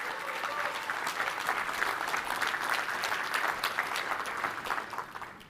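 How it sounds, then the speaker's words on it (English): An audience at a security conference talk on bug bounties applauds the speakers with sustained, even clapping from a crowd, steady and moderately distant, fading slightly at the end. "a round of applause, make some noise for Susan Graves, Terrye Molz, and Stanko Jankovic"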